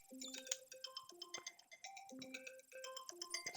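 A mobile phone ringtone playing a bright, repeating electronic melody of quick plinking notes, faint and steady throughout with no talk.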